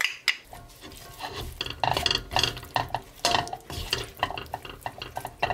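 Seasoned shredded dried squid side dish being gently mixed with a spoonful of honey in a pan off the heat, giving soft repeated scraping and clinking strokes at a steady pace, close and moderately loud, with no talking.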